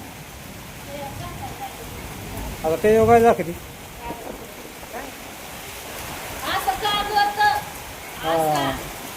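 Rain falls on a building site with fresh cement and a breeze picking up, making a steady wash of hiss beneath people talking.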